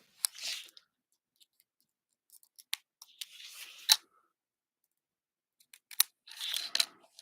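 Scissors snip through paper while a handmade greeting card is made, in short separate bursts of close, crisp cuts with quiet pauses between.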